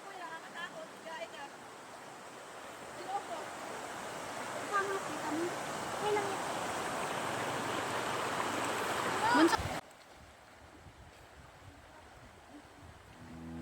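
Clear river water flowing steadily in a continuous broadband wash at moderate level, stopping abruptly near the end and leaving a quieter background.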